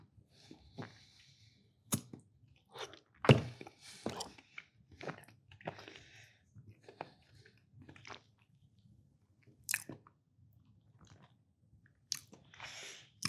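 Close, quiet chewing of cookie butter Dubai chocolate, with soft crunches and wet bites in irregular bursts against a near-silent background.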